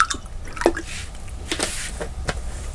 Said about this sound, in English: so now let's put some water in here,